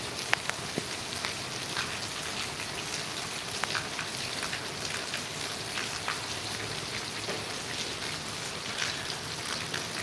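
Heavy rain pours down in Gondal, a dense steady hiss of drops with scattered sharper patters on nearby surfaces, continuous and without voices.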